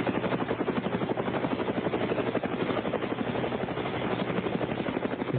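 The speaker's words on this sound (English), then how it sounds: "Jose, did you see her in the chopper?" A helicopter sounds loud and close as its rotor chops in a fast, steady pulse above a dense engine roar that continues unbroken, with no one talking.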